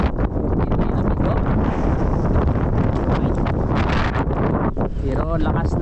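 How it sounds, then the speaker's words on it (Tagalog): Strong wind and rain batter a small fishing boat at sea, a loud, constant roar of gusts buffeting the microphone with spattering rain, while someone talks faintly beneath it. "Pero lakas ng ulan at hangin"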